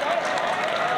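Steady applause from an audience at a bodybuilding championship, a dense wash of clapping filling the whole moment without pause.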